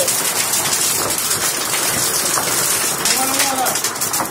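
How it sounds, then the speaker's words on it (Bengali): Hailstones fall at night in a dense, steady clatter, a loud continuous patter like heavy rain on a hard surface, with a voice speaking faintly under the noise. "দেখুন গাইস কি পরিমাণে আওয়াজ হইতাছে শিলা পড়ার"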